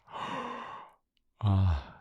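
An audiobook narrator performs a yawn for a character waking at sunrise in The Little Prince: a long, breathy open-mouthed exhale, a brief pause, then a louder voiced, drawn-out yawning sound, close and alone.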